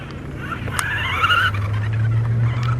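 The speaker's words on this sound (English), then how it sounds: "There's a cheap RC car versus an expensive RC car" A cheap toy RC car drives across a skate park, its small electric motor giving a steady whine with brief tire scrapes, heard alone outdoors without talk.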